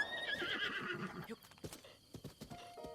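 A horse in the video game Zelda: Breath of the Wild gives a loud close whinny, followed by a few sharp clip-clop hoof beats on hard ground.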